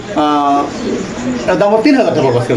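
Spanish pigeons coo close by in soft, throaty rolling calls, with someone talking over them throughout.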